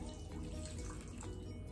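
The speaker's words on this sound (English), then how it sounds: "I'm just going to pour a little bit of water on this so we can soak it for 30 minutes." Water poured from a tap or jug over ingredients in a bowl to soak them for a plant-based dish, a steady continuous splashing stream lasting throughout, close and fairly quiet with no talk.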